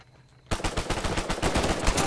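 Rapid automatic gunfire in the online Team Deathmatch mode of the video game Uncharted 4 on an island map, starting abruptly after a quiet moment and continuing as a dense, loud burst of shots.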